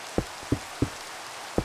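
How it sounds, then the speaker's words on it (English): Rain in the Minecraft video game makes a steady hiss, broken by four separate soft taps of drops at uneven intervals, quiet and with no voices. "I'm going to have to go and wait for the rain to end."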